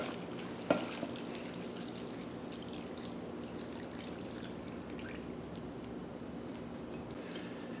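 Water pours steadily into a skillet for a cup-filling amount, a soft continuous trickle and splash at moderate distance with a single sharp clink near the start and no talking.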